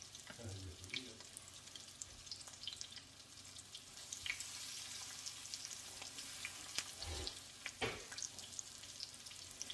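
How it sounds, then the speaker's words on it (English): Breaded chicken tenders fry in a frying pan, giving a faint, steady crackling sizzle with occasional louder pops and clatter, mostly alone with little talk. "these two are going to fry for about 3 minutes"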